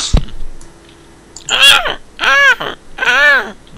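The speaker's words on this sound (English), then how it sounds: "No more noises than the flipping birds you can hear in my garden." Crows caw three times in a garden, loud harsh calls spaced about a second apart, each with a rising-falling harmonic sweep, over quiet background.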